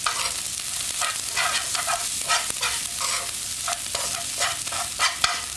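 Breadcrumbs, bacon and parsley sizzle in a frying pan while being stirred, a steady close crackle broken by repeated scraping strokes of the spoon, with nobody speaking.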